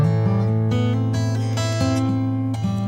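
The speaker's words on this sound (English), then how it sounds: "all I'm doing is playing a little game of hammering on from an open string" Guitar line built from rapid hammer-ons off an open string, ringing notes stepping through an 8-10 note phrase with sustained open-string drone underneath, close and clear with no talking.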